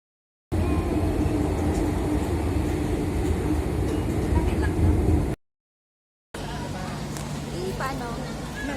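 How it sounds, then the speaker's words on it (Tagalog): A small Disneyland park train rumbles past with a steady, loud rolling drone, then a short gap, then more continuous rumble with a low hum, as people chatter nearby. "Ang cute ng train nila."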